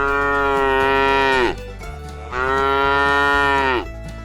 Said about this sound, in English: we moo to communicate with our calves, with each other